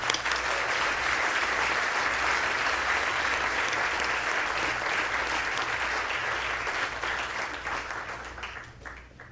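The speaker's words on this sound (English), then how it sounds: "Let's give them a round of applause." An audience at a groundbreaking ceremony for the National Intrepid Center of Excellence claps steadily, dense sustained applause from a sizable crowd that tapers off in the final seconds.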